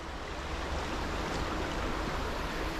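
A flowing river at Nash Oaklands, heard as a steady broadband rush of water, fairly faint and unbroken, with no voices.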